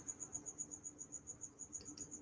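Steady cricket chirping, a rapid even train of about a dozen high, thin pulses sounding close and moderately loud, with no voices over it.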